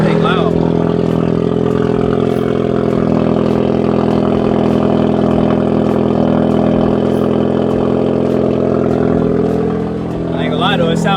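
A car's engine runs loud and steady close by, with a deep constant rumble that holds through the whole stretch while people talk over it.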